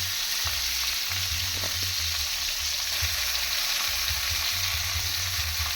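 Garlic frying in a pan with tomato and onion for escabeche of dried fish: a continuous bright sizzle, fairly loud and close, with low thumps and scrapes of stirring now and then.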